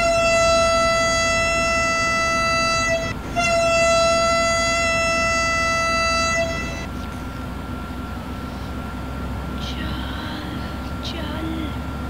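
A Vande Bharat train runs through an Indian railway station, sounding a loud sustained horn blast with a short break, then fading into a steady rolling rumble as it passes.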